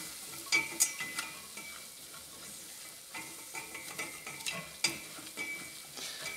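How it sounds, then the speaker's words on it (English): A silicone whisk stirs flour into bubbling fat in a pan for a roux, giving soft repeated scraping strokes over a steady low sizzle, close and moderately quiet, with no talking. "then just stir the two together till it's nice and bubbly."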